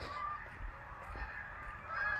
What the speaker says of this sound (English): See, all those geese, whatever you want to call them, they are super excited about Halloween.